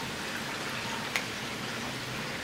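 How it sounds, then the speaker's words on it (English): Rain falls in St. Thomas with a steady, soft hiss of drops, broken by one brief sharp tap partway through. "It is raining."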